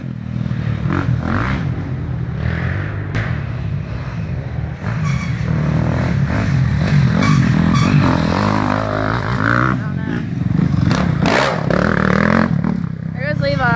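Motocross motorcycles racing on a dirt track at an SORCS round 12 Turkey Trot event, engines revving and droning steadily throughout at moderate distance, with some clatter, while people talk over the noise.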